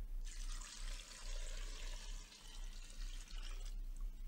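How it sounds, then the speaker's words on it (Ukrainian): Water pours steadily from a tap into a pot of potatoes, a continuous splashing fill lasting a few seconds before it stops, close and fairly quiet. "Ми покриємо їх водою на 2-3 см вище."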